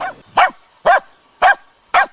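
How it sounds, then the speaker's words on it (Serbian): A blood-tracking hunting dog barks at found game four times, loud and close, evenly spaced about half a second apart, with a softer yelp at the start. "Najbolje je ako pas pronađenu divljač urođeno oblajava sve do dolaska svog vodiča"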